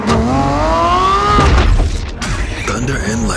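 A Lamborghini Revuelto's hybrid V-12 engine revs loud and close, its pitch rising steadily, then a heavy boom and a rumbling burst, under a layer of dramatic sound effects.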